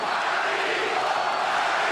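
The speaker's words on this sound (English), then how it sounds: "Crowd chanting Margarito." A boxing crowd at the Margarito vs. Cotto fight keeps up a steady, loud roar of chanting for Antonio Margarito, a dense wall of massed voices with no pauses across the whole stretch.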